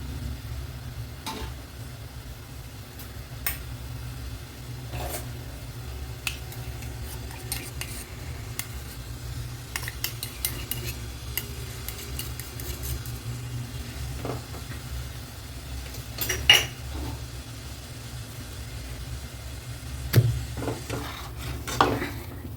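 Ragi rava kichadi being stirred in a pan, with scattered light scrapes and clinks of a spoon against metal over a steady low cooking rumble, sporadic and moderately close throughout.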